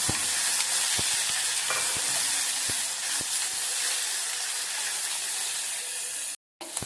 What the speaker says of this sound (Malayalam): കുറച്ച് ഇഞ്ചിയും കൂടെ ചതച്ച് ചേർക്കുന്നുണ്ട് കേട്ടോ നമ്മൾ നന്നായിട്ട് ഇളക്കുക